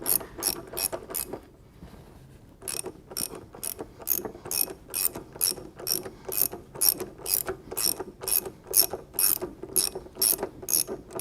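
A hand ratchet tightening a pitman arm puller on a power-steering linkage, rapid rhythmic clicking in quick strokes, close and clear, with one short pause before the steady cranking resumes.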